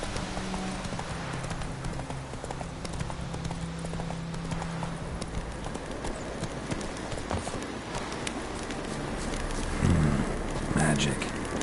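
Geralt's horse Roach in The Witcher 3 trotting with steady, close clip-clop hoofbeats over a soft rain-like background, with a deep voice briefly heard near the end.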